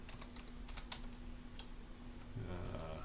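Typing on a computer keyboard while writing Java code, a quick close run of light key clicks with brief pauses, and no voice over it.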